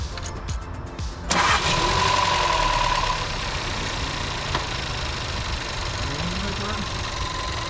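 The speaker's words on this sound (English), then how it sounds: "First start, guys, after installing the new intake" Seat Leon FR 1.4 TSI turbo petrol engine firing up for the first time after a new MST air intake is fitted: a sharp start catch, a loud revving flare, then a steady idle, with faint talk underneath.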